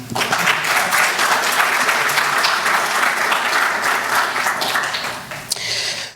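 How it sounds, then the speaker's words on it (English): Enthusiastic applause from a crowd, clapping steadily throughout with no pause, fading slightly at the very end. "let's give a round of applause to Kami, who selected this."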